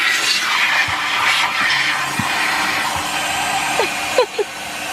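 A vacuum cleaner runs with a steady, loud airy whine throughout, with a few faint bumps and brief squeaks as it moves.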